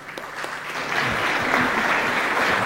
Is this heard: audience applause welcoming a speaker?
yes